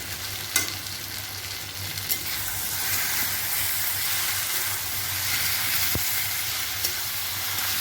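Onion, garlic and chopped ginger frying in oil, a loud continuous sizzle with occasional stirring scrapes and clicks from a utensil, steady throughout with no talking.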